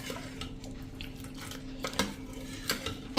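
Kala khatta jamun sherbet stirred with lemon juice: a spoon clinks and scrapes against the vessel in irregular taps, close up, with a few sharper knocks and no voices.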